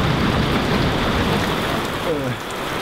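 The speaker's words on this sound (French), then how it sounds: "le ciel qui envoie des éclairs en stroboscope, c'est encore plutôt un bon indice d'un orage violent en approche" Heavy rain pours down steadily in a violent thunderstorm from the film Twister, a loud, dense hiss throughout that eases slightly near the end.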